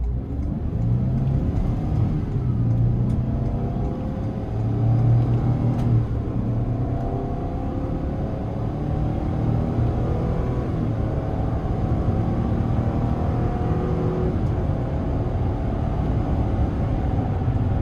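A 2025 Ford Transit MidRoof 250 Explorer conversion van accelerates, its engine droning steadily and rising in pitch through gears, heard from inside the cabin with continuous road rumble.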